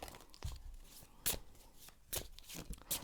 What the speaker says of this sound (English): but I'm gonna shuffle a bit more.